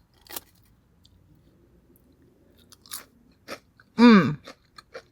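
Crunchy battered fried pickles are bitten and chewed close up, sparse crisp crunches and wet chewing sounds with one loud bite near the end.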